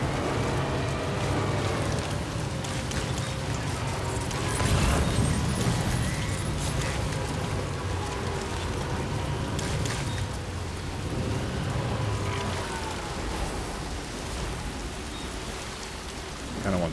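Timefall rain in the video game Death Stranding 2, a dense, continuous downpour pattering on surfaces with a low rumble, steady and loud throughout.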